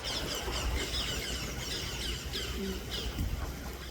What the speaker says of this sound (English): Oh, parakeets.